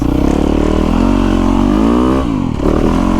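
A Yamaha YZ450FX 450cc motorcycle engine roars loud and close while being ridden, its pitch climbing steadily, dipping briefly near the end as the throttle drops, then pulling up again, with no voices over it.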